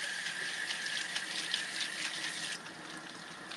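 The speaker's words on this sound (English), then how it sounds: "Let me run some water on them." Tap water runs steadily over cooked noodles for pesto, a close, even splashing stream that softens slightly near the end.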